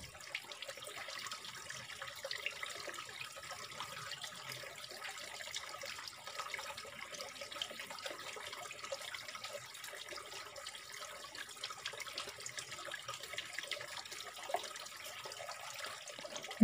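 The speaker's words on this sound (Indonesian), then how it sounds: "Setelah itu bilas sampai bersih." Tap water running to rinse something clean: a steady, faint splashing hiss with light trickling, continuing alone without speech.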